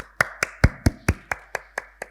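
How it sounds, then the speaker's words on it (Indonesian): A few people clapping in rhythm at a children's church service for kids moving up a class, about nine sharp, evenly spaced claps close to the microphone, with no talk in between. "Kita akan beri tepuk tangan untuk kakak-kakak kita."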